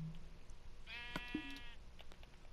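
A single sheep bleat in Minecraft, one clear wavering call heard faintly against quiet background.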